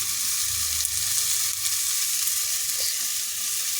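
Spices and red chili powder fry in a hot pan with a steady, close, even crackling sizzle that runs throughout with no pauses.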